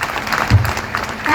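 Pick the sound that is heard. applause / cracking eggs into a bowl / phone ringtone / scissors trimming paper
applause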